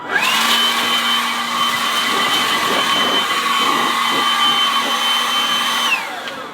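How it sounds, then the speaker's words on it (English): A Milwaukee cordless leaf blower runs on its high setting, giving a loud, steady, close whirring roar with a high whine that holds for about six seconds and then winds down abruptly, with no voices. "Does it blow stuff? Yes, it blows stuff. I'll put it on high."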